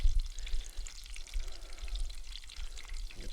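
Peach fritters frying in hot oil at home, a steady crackling sizzle running throughout with soft stirring noises, close and fairly quiet.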